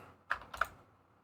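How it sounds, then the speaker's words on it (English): Two quick clacks on a computer keyboard, close and fairly quiet, spaced about a third of a second apart, with no voices. "What are you typing?"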